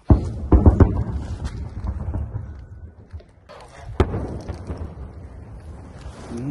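Gunshots crack in an industrial zone near the Azovstal plant in Mariupol: a sharp report at the start, a quick cluster of shots soon after, and one more sharp crack a few seconds later, over windy outdoor rumble.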